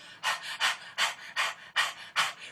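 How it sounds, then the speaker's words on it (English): A person does breath of fire, a dog-like panting breath: six forceful, rhythmic breathy huffs at an even pace, close and clear with no talking. "one is like a dog panting breath that goes like this"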